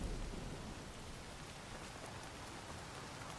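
Heavy storm rain in the video game Horizon Forbidden West, a dense, steady wash of rainfall with a low rumbling undertone, continuous and fairly quiet, no voices.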